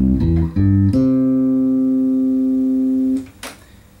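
Arpeggio on a bass guitar: a few quick individual notes picked in succession, the last one sustaining for a couple of seconds before being muted, followed by a faint handling noise.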